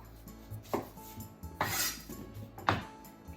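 A knife strikes a cutting board in a few sharp, separated chops as an onion has its top and bottom cut off, with faint kitchen clatter between the cuts.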